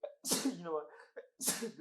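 A person sneezes sharply at close range amid casual podcast conversation, with a second sneeze-like burst following shortly after, both loud against the talk.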